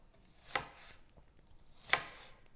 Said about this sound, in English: all you need to do is just kind of slice it out like this